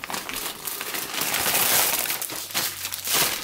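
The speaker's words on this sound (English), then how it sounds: "Let me open it because this cellophane is really loud." Cellophane wrapping on a haul package crinkles loudly as it is torn open, a dense, continuous crackling rustle lasting a few seconds, close up, with no speech.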